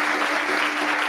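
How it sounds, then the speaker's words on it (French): Steady, dense audience applause fills a seminar room, continuous and fairly loud throughout the short burst with no voices over it. "Il est applaudi, voilà."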